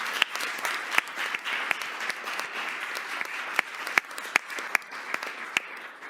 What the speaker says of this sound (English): So we applaud each one of you for earning 500 and more in ELA.